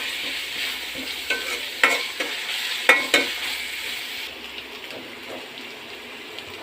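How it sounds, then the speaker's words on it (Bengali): Ginger-garlic spice paste sautéing in a pan, a soft steady sizzle broken by a few sharp scrapes and clacks of stirring, close up with no talking. "এই কারণে প্রথমে পেস্ট একটু কষায় নেব।"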